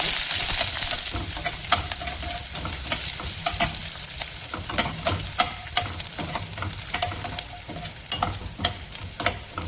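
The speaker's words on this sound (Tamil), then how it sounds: "வெந்தயம் பொரிஞ்சு வந்த உடனே பச்சை மிளகாய், வெங்காயம், கருவேப்பிலை" Onions, green chillies and curry leaves sizzle and fry with fenugreek seeds in a hot pan with steady crackling, punctuated by frequent sharp clicks and scrapes as a spoon stirs them.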